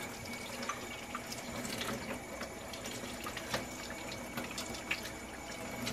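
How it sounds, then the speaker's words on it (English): A Colt Combat Unit 1911 pistol is rinsed under running water, giving a steady broad splashing flow with small drips and clicks at close range, alone without talk. "Take it out, we're going to rinse it off."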